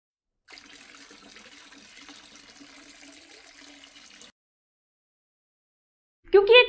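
Lead nitrate and potassium iodide solutions are poured together in a laboratory, making a soft, steady liquid pour for several seconds that then stops, followed by a brief louder sound.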